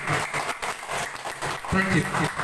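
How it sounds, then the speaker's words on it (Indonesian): Audience applause at a company gathering comes as a brief, dense burst of clapping, mixed with voices talking over it. "Tepuk tangan Bapak Ibu"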